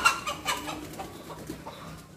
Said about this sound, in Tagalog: tuwang-tuwa yung mga manok.